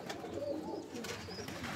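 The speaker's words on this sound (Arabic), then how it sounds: "طيور تحف" Pigeons kept in a home loft coo softly, in a short run of low, throaty calls with a faint murmur behind them.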